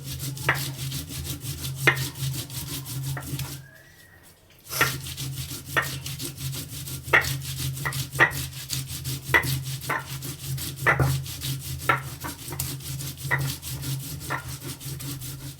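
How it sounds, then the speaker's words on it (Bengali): Ridge gourd peels are crushed and ground by hand on a grinding stone, making repeated rough rubbing and scraping strokes in an uneven rhythm. The sound is close and moderately loud and stops briefly once. "এবার আমি এই ঝিঙের খোসাগুলো একটু এভাবে থেতো করে নিই।"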